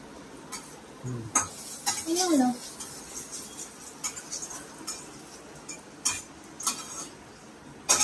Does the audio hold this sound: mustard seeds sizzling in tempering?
yes